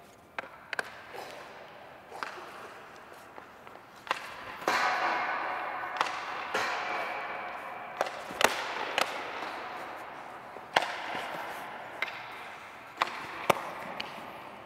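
Hockey pucks are shot and tipped at a rink. Sharp, loud cracks of sticks on pucks repeat at irregular intervals, a dozen or more, over a hollow arena ambience, with no voices.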